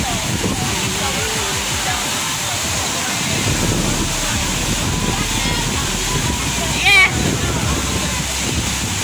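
Steady rushing roar of Dunn's River Falls, a cascading river waterfall, fills the scene with broadband water noise and some wind buffeting, with a brief sharp knock near the end; voices murmur faintly beneath.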